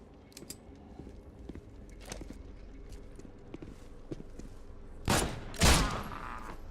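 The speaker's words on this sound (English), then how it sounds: "I'm glad my second shot hit where I meant the first one to go" Gunfire in The Sinking City video game: faint clicks and footsteps, then two sharp shots close together near the end, louder than the quiet backdrop.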